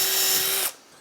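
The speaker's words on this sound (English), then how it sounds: "So I can now drill through here." A power drill whines loud and close as it bores through a wooden waste board for a tracksaw cutting station, then abruptly stops and spins down after under a second.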